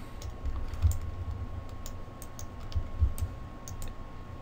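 Clicking on a computer while working in the Mudbox 3D sculpting software, a scatter of light, close clicks and taps at irregular intervals over a faint steady electrical hum, with no talking.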